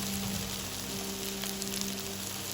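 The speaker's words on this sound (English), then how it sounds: "it's roasting in the oil actually" Chicken curry gravy roasting in hot oil in a pan: a steady, dense sizzle and frying crackle, close and continuous, with a faint low hum beneath.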